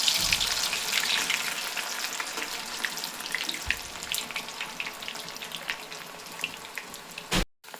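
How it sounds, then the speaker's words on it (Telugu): Potato pieces deep frying in hot oil give a steady, dense crackling sizzle with scattered pops, ending in a brief louder burst and a sudden cutoff. "ఆ ముక్కలన్నీ దీనిలో డీప్ ఫ్రై చేయాలి"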